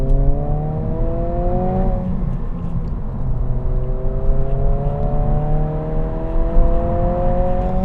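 A Honda Civic Si with a limited-slip differential revs steadily while driving, its engine note rising in a smooth climb, dropping back, then climbing again as a continuous close-up drone with no talking.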